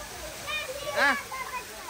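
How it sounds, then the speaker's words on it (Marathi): Heavy rain with hailstones pours down in Baramati, and running water rushes steadily, close and loud, while a voice speaks over it. "अयो किती पडतात गारा"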